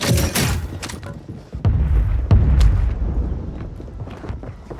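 Gunfire and heavy booming blasts in the Call of Duty Warzone battle royale on Rebirth Island, with a loud burst at the start and further sharp shots and thuds through a rumbling, busy background.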